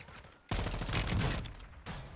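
A burst of sniper gunfire in a video game erupts loud and close after a quiet moment, a dense crackling volley lasting about a second, followed by a second, slightly softer report.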